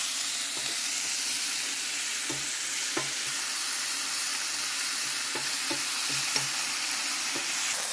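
Pumpkin peel bhujia fries in a pan while being stirred, giving a loud, steady sizzle with occasional scraping clicks of the spoon, close and continuous.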